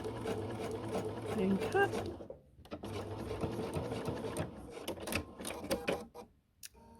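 A Bernina 770 sewing machine stitches fabric at a craft show in a fast, steady mechanical whirr. Its run pauses briefly and then resumes among busy clatter, while someone speaks over it.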